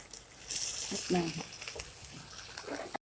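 Shrimp and onion flowers stir-fried in a hot pan with oyster sauce, a close steady sizzle with spatula scrapes and stirring, a voice briefly over it.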